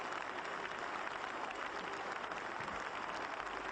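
A test match crowd at England vs West Indies cricket in 1980 applauds a departing batsman, steady sustained clapping and cheering from a large distant crowd, continuous throughout.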